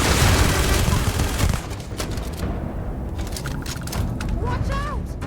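Rapid bursts of gunfire from the video game Starfield, loud and dense at first, then thinning into scattered shots with a few whooshing effects, with people talking over the action.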